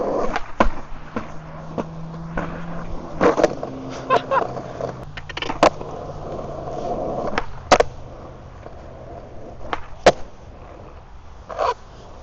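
A skateboard rolls through a rumble strip while its rider holds a manual, giving a low wheel drone broken by repeated sharp clacks and bumps spaced unevenly, with some voice in the background.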